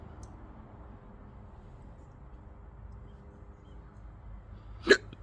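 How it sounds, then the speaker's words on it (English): A single short hiccup pops out near the end of a quiet stretch, a sharp brief burst over low background hum. "Darn hiccups."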